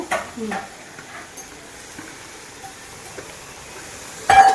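Puffed rice (kadlepuri) tossed into a hot spice tempering and stirred in a pan for a savory snack, a soft scraping rustle that stays low and steady before a brief louder burst of clatter near the end.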